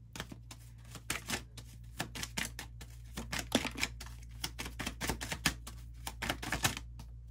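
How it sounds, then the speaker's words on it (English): Rapid crackling riffles of a card shuffle come in quick bursts, close to the microphone, over a steady low hum. "Shuffling one more time."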